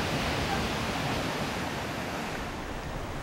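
Rough sea waves break against the Jeju coast in a loud, continuous broadband roar of surf that stays steady and close throughout, with no voices.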